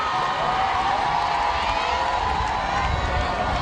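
Crowd cheering along a race route in Kindu, with a dense, loud mix of shouting, whoops and children's voices rolling on continuously and close by.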